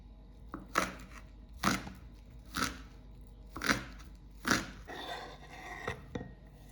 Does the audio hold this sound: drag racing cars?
no